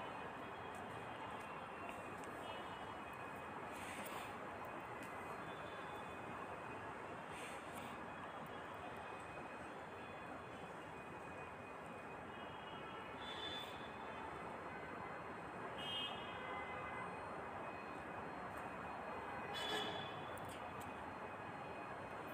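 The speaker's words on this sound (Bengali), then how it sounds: "ড্রোনটা আসছে।" A camera drone flies close over a village rooftop, giving a steady, faint whirring drone that holds for the whole stretch with slight swells and no talking.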